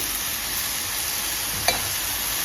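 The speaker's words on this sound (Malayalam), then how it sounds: "ഇനി നന്നായിട്ട് ഇളക്കാം ഒരു നാലഞ്ച് മിനിറ്റ് ഇളക്കിയാൽ മതിയാവും" A coconut, jaggery, cumin and cardamom filling cooking in a pan, a steady soft sizzle with a single brief scrape of the spoon late on.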